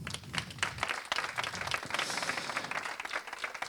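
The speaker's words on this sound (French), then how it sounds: "Donc on peut encore tous les applaudir." Audience applause at an AI and HR award ceremony: a fairly faint room of hands clapping in a lively, irregular patter with distinct individual claps standing out, steady throughout.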